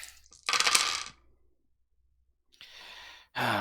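Dice for a Scion 2nd edition tabletop roleplaying game clatter and rattle across a hard surface in three quick bursts, separated by a short silence, loud and close.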